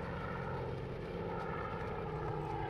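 Aircraft engines drone in the video game Battleground Europe during late-stage combat, a steady propeller-plane hum that runs continuously at low volume with no talking.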